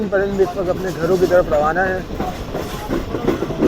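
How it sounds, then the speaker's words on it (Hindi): The Karakoram Express passenger train rolls along the rails with a steady rumbling clatter beneath someone speaking continuously over it. "और ये पीछे आती हुई पूरी हमारी कराकरम एक्सप्रेस।"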